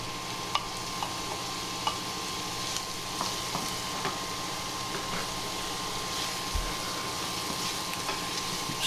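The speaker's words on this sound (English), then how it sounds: "Now we're going to add the onion. And you're going to fry that up for a further 5 minutes" Chopped onion and bacon fry in a pan with a quiet, even sizzle, broken by light scraping taps from stirring. No voices are heard.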